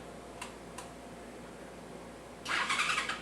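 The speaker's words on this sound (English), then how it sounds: "Motor turns over." A 2007 Kawasaki Ninja 250 motorcycle engine turns over: two faint ticks, a pause, then a loud, grinding starter crank that runs steadily to the end.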